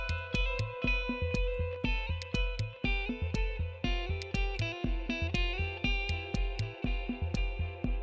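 Arturia delay plugin pushed to high feedback until it self-oscillates, with repeating musical notes smearing into sustained, ringing echo tails that build and pile up steadily, loud and dense throughout with no talking.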